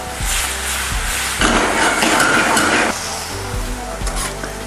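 Marinated tempe sizzling in a frying pan as the pan is shaken over the stove heat, a steady close crackle with a louder rushing burst in the middle and a few soft knocks.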